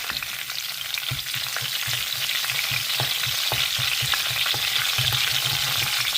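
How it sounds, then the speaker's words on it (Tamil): Mustard seeds crackle and splutter in hot oil, a steady sizzle dotted with frequent small pops, close and continuous. "கடுகு வெடிக்கணும்"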